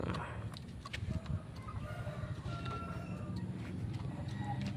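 A Shamo rooster crows faintly outdoors against a steady background of ambient noise, with a few soft clucks.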